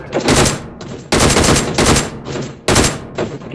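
Loud automatic gunfire in the battle royale game PUBG: three long close bursts of rapid shots, each lasting about a second, broken by brief gaps with echoing tails.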